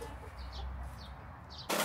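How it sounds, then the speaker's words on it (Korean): Chickens let out of a coop at a monastery in the morning, a few soft clucks and short calls scattered over low background rumble, followed by a sudden burst of louder noise at the end. "작업에 앞서 미카엘 형제를 보고 닭장에서 우러제끼는 닭들도 풀어줍니다."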